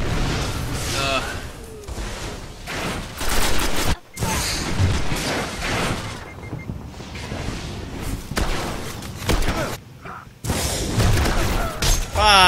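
Gunfire in Destiny PvP, a Control match played as a Hunter: rapid bursts of shots and impacts repeat throughout, mixed with game announcer calls and a player talking over the action.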